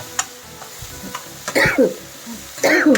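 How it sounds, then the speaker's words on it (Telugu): A person with a cold coughs harshly twice close by, one after the other, over faint sizzling and stirring sounds from a pan. "జలుబు దగ్గు"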